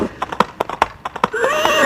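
A horse whinnies near and loud, its call rising and falling after a run of rhythmic clip-clop hoofbeats, with no talk over it.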